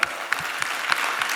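Lively audience clapping at an army nation-building talk, a brief burst of many hands with a few sharper individual claps standing out, fairly close and steady.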